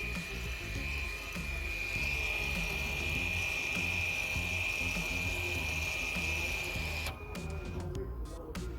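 Electric rear brake caliper motor on a 2013 VW Passat retracting during a pad change, a steady close whirring mechanical drone with a high whine that runs for about seven seconds and then cuts out, followed by a few clicks.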